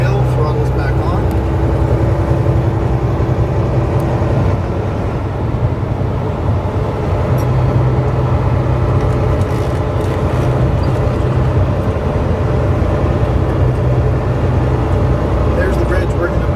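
A 2009 Volvo truck with an I-Shift gearbox comes back on the throttle at the bottom of a mountain hill. A steady, loud low engine drone runs throughout, with someone talking over it.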